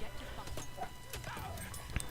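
Horse hooves clip-clopping in Battlefield 1 as a rider moves, a quick uneven string of soft hoofbeats under someone talking, with faint game ambience around them.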